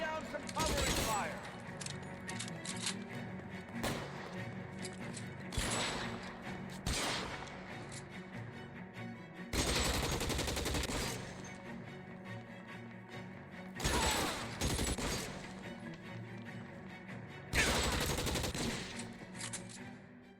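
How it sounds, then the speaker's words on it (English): Bursts of covering gunfire in the crime video game L.A. Noire, with several loud volleys of rapid shots recurring every few seconds over a steady background and occasional voices. "Lay down some covering fire."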